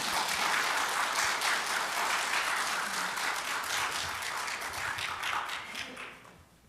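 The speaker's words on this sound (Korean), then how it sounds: "하나님께 영광의 박수를 한번 돌려드립시다." A church congregation claps during a worship service, a fairly faint, even patter of many hands that carries on for several seconds before fading out.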